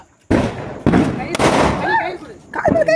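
Firecrackers burst during a Diwali celebration with sharp, loud cracks, three close bangs in quick succession, while people shout and talk excitedly.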